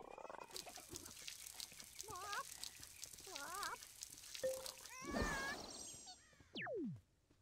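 A rooster in the video game Viva Piñata makes cartoonish, wobbling warbled crows and clucks in short bursts, then a rising and falling sliding effect, with game music and sound effects around them and no talking.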